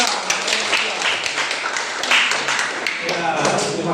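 A classroom group claps for classmates, a brisk scattered patter of hand claps running throughout at moderate volume, with voices talking over it.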